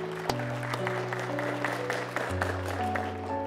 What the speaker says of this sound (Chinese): 再一次响起你们最最热烈的掌声